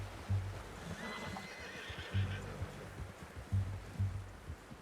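Horse in the video game Red Dead Redemption 2 gives a whinny with low snorting, nearby and moderately loud, with soft hoof sounds and ambient rustle beneath.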